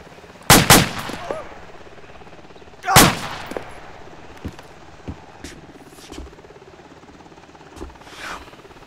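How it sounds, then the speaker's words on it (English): Heavy machine gun fire in ARMA 2 comes as two loud close bursts, then fainter scattered shots and distant thumps that thin out over several seconds. "I hear heavy machine gun fire from the southeast bearing 155 approximately, over."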